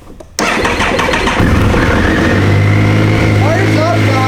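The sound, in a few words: Triumph Sprint motorcycle engine starting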